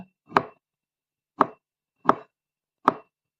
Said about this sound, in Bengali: আজকে এই পটল কাটতাছি, পটল ভাজি করবার জন্য